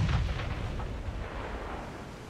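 Warship main guns firing in the naval game Ultimate Admiral: Dreadnoughts, with a heavy low boom at the start and a rumbling roll that fades over a couple of seconds, with no talking.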